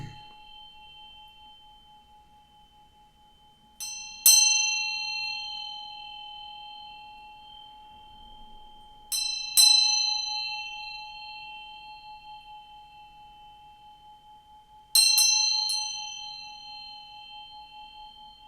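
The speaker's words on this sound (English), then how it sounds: "I'm going to ring this bell to bring some good vibes" A small bell is struck three times at slow, even intervals, each ring a clear bright ding with a long, slowly decaying shimmering tone, close and alone in quiet.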